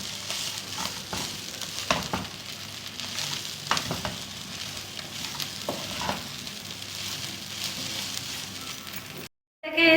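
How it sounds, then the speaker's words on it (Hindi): A chicken and vegetable spring roll filling is stirred in a hot pan, with a constant close sizzle broken by repeated scraping strokes of the spoon, then cut off abruptly at the end. "अब मैं इसे मिक्स करूँगी, सारा ऊपर नीचे सब मिक्स करूँगी अच्छी तरह"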